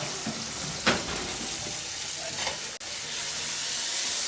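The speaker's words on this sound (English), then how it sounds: "Just stir up on this." An Indian dish sizzles steadily in a pot as it is stirred, with a constant close frying hiss and a few sharper scraping and stirring accents.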